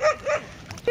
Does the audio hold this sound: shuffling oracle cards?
no